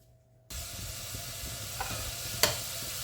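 Finely chopped onion goes into hot oil in a pan: after a short quiet moment a sudden steady sizzle starts and continues close and even, with one sharp clink partway through and no voices.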